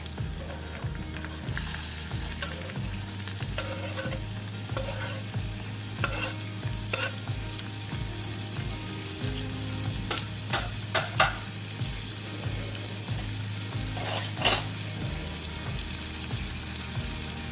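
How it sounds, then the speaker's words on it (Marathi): Finely chopped onions fry in oil with asafoetida and bay leaf, giving a constant close sizzle. A spoon stirs and scrapes the pan in rhythmic strokes, with a few sharper knocks, and no one speaks. "आता हा कांदा आपण तेलावर चांगला परतून घेऊया"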